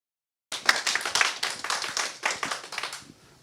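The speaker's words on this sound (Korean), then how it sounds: "강연해 주신 유재근 교수님 박수로 감사합니다." Audience applause at a peptide cosmetics symposium lecture in a hall, a dense burst of many hands clapping that starts abruptly, holds steady for about three seconds, then thins out.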